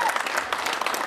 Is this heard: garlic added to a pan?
no